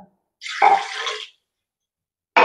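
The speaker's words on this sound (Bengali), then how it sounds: "এবার এর মধ্যে আমি পরিমাণ মতো জল দিয়ে দেবো।" Water is poured into a pressure cooker holding chickpeas: one close splashing pour lasting about a second, then silence, then another pour starting.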